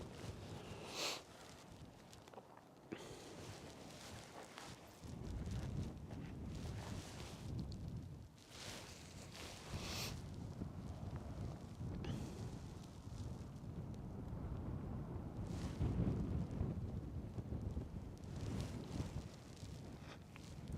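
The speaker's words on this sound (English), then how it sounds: "that wind is picking up" Wind gusts and roars across the microphone at the Kilauea volcano summit on Hawaii's Big Island, a steady low rumble swelling and easing for the whole stretch, with no voices.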